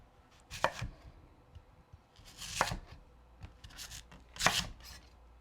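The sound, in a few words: knife cutting peeled yams into rounds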